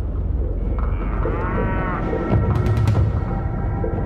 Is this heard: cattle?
yes